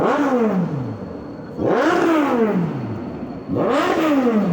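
Motorcycles rev and pass one after another near Cabiang tunnel in Ternate, Cavite. Three loud, close engine surges each rise and then fall away as the bikes go by, with a steady hum underneath.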